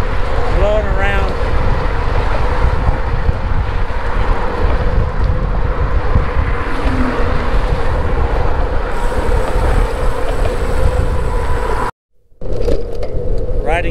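Strong 23 mph headwind roars across the microphone on a bike ride, a loud, continuous buffeting rush with gusty swells, briefly cutting out near the end before resuming.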